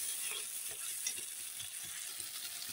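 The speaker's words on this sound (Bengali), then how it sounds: "টমেটো পেস্ট দিয়ে এখন একবারে ভালো করে কষিয়ে নেব" Fish curry spices fry with tomato paste in a pan, giving a faint, steady sizzle with light stirring scrapes, quiet and close with no voices.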